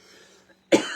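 A single loud, harsh cough bursts out near the end after a quiet stretch, close to the listener.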